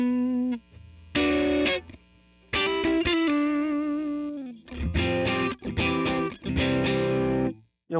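Distorted electric guitar through a Vox amp simulation on an Ampero Mini multi-effects unit, bright and biting, playing held chords and bursts of notes with short gaps between phrases, loud and close with no talking.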